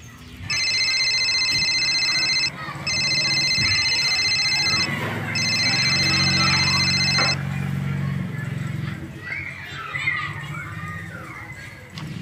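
An outgoing phone call rings back in three evenly spaced bursts of bright electronic tone, each about two seconds long, heard over steady room noise with some background voices.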